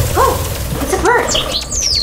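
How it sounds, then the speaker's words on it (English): Birds calling in a botanical garden, a few short warbling chirps followed by higher whistled notes, fairly close over a steady low background rumble. "Oh, guys, it's a bird. It's mine. It's a blue bird."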